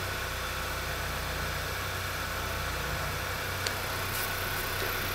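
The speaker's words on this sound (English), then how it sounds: "Start the engine, let it idle." A car engine idles steadily, a constant low hum with faint mechanical noise and no change in pitch.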